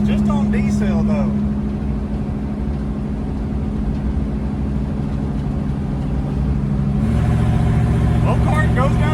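A Pontiac Ventura drives along with a loud engine drone and a rough, grinding noise from a bad rear end, the pitch shifting partway as speed changes, while someone talks over it.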